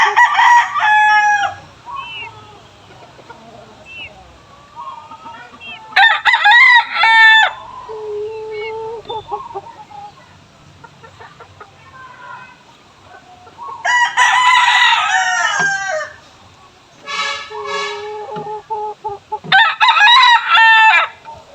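Chickens crow and cluck loudly and close by, repeated bursts of rooster crowing separated by quieter clucking and chick peeping, no talk.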